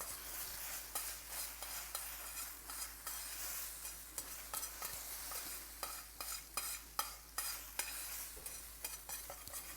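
Eggs sizzle and fry in a pan while a utensil stirs and scrapes them in steady repeated strokes, a continuous hiss close by with no voices.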